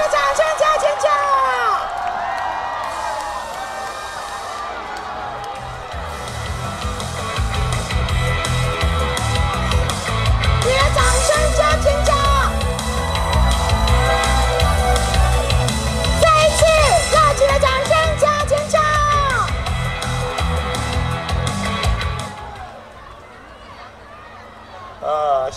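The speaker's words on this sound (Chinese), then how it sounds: "你的掌声加尖叫" A large outdoor crowd at the 2019 Cijin spring music festival in Kaohsiung applauds, screams and cheers for the mayor, a loud sustained roar with whoops and shrill shouts that fades near the end.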